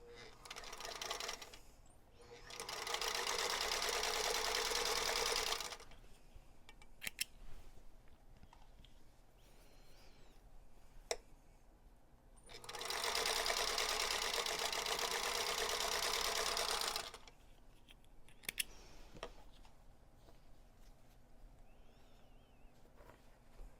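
Sewing machine stitching quilt block pieces with a scant quarter-inch seam, two bursts of rapid whirring stitching of several seconds each, separated by quiet pauses with light clicks and handling.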